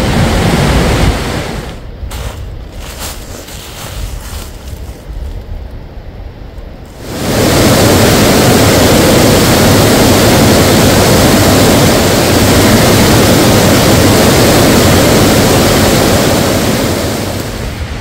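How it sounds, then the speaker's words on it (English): Waterfalls rush loudly along the Snake River, a dense roaring wash that is somewhat softer at first, then swells abruptly into a full, close, continuous torrent. "It's just a never-ending series of beautiful waterfalls."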